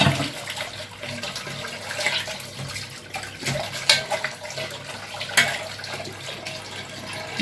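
Goat intestines rinsed and swished in running water like cloth being washed by hand, with steady splashing and trickling near the microphone and a few sharper sloshes along the way.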